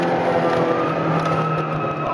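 A four-cylinder racing motorcycle runs at speed around the Motorland circuit, a steady high-pitched engine whine heard up close over strong wind rush, with no speech.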